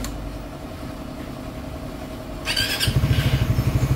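A Raider 150 FI motorcycle engine cranks with a short burst of starter noise, then catches and settles into a steady, pulsing idle close by, with no talk over it.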